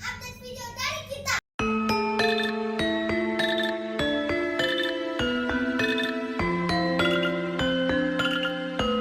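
A notification bell sound effect rings out as a quick melodic run of bright chiming dings, clear and prominent, following a brief moment of voice.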